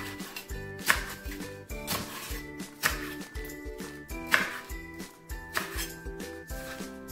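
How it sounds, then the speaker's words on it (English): A knife chopping leek into chunks on a board for homemade vegetable stock, a slow irregular series of close, sharp thunks with some clinking between cuts. "This is leek, which I'm going to cut."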